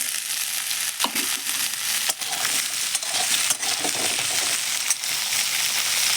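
Potatoes frying in hot oil with onion, garlic and ginger paste: a steady, broad sizzle runs throughout, with a few scraping stirs and soft clinks close by, no talking.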